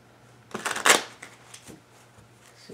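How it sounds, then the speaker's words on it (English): A quick riffle of tarot cards being shuffled, loud and close, followed by a few lighter flicks and taps. "One last shuffle."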